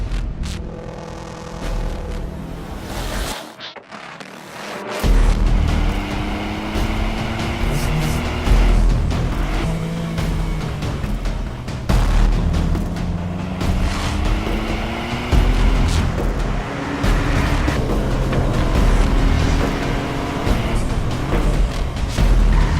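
A new Ford Fiesta ST climbs the Via Campocatino mountain road in Italy. The engine note rises and falls through gear changes with a loud, close exhaust roar after a brief quiet start.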